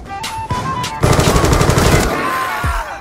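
Rapid automatic gunfire in a shooter video game, a loud close burst of fast repeated shots after a couple of single reports, with faint voices underneath.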